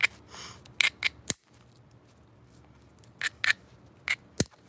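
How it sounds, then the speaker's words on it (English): Sharp, bright clicks of a hammerstone striking dacite during flint knapping, a few strikes in quick pairs spaced across a quiet background, close and fairly loud with no talking. "I love that hammerstone sound."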